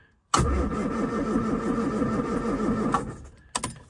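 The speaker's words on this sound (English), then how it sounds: "this is what it sounds like on the current starter motor" An MG Midget 1500 starter motor cranks a cold engine steadily for about two and a half seconds with a rhythmic whirring churn, then stops, followed by a brief second burst of cranking.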